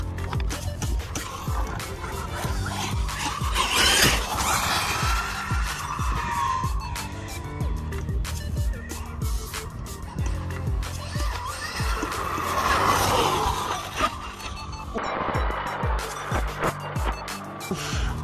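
A Losi Super Baja Rey 2.0 4WD 8S RC truck runs over rough ground, its motor whining and rising and falling while tires grind and skid through dirt, with occasional voices in the background.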